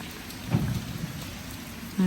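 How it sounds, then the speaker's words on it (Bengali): Heavy monsoon-like downpour in a steady, dense hiss of rain falling on surfaces, with a faint low rumble, continuous and close with no voices. "এখনও ঝুম বৃষ্টি পুরো মনে হচ্ছে বাংলাদেশের মতন"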